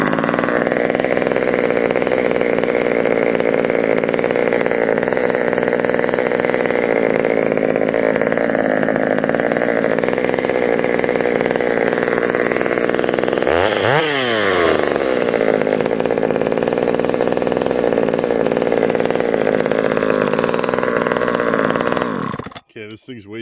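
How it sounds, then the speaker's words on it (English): A Homelite chainsaw engine with a tuned clutch runs steadily at a loud, buzzing idle for a long stretch, briefly revving up and back down partway through before cutting off. "I'm just going to get this saw started and watch it"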